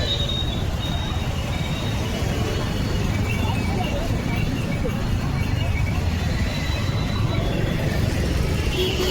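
A car's engine and road noise rumble steadily from inside the moving vehicle, with people talking over the drone.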